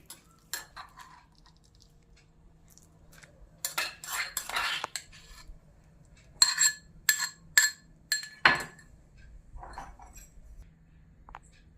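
Roasted, crushed eggplant is mashed on a plate for spicy bharit, with bursts of metal cutlery clinking and tapping against the plate, close and fairly loud, separated by short quiet gaps and no talking.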